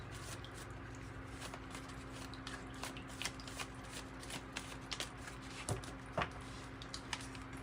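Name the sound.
shuffling old tarot cards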